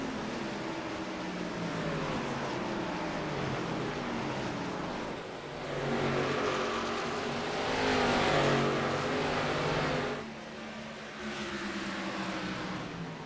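Simulated stock cars in an iRacing Xfinity Series race at the Milwaukee Mile oval drone past steadily, several engines overlapping in a continuous roar that swells and dips as the pack circulates.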